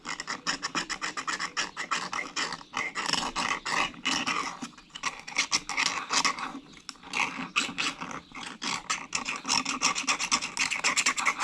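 Metal tool scrapes inside a hydraulic cylinder during a rebuild of an Oliver Cessna cylinder, a close, rapid rasping in quick repeated strokes, continuous and alone with no talk.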